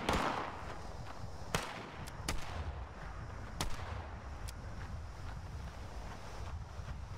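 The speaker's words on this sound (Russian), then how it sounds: "Он меня стреляет." Enemy gunfire in the post-apocalyptic game Fallout 76, a handful of sharp, isolated cracks spaced a second or two apart over a steady windy, rumbling background.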